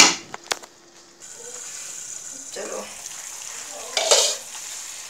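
Semolina halwa with milk being stirred and cooked in a pan: soft scraping stir strokes and a faint sizzle, with brief utensil knocks early on and a louder scrape burst near the end, with some talk.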